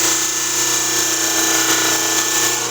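A lapidary saw cutting stone at an angle gives a loud, steady, high whine with a constant grinding hum underneath, unbroken for a few seconds and close by.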